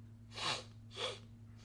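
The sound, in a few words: sneeze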